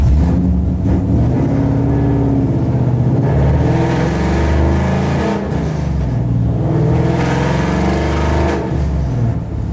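A loud straight-piped Ford Mustang exhaust with no muffler revs and drones steadily close by, rising and falling in pitch with a deep rumble throughout.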